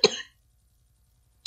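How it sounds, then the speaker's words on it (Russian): A single short, close cough from someone who is ill, followed by silence and a faint start of another cough at the end. "Я заболел. Поэтому ждите много кашля."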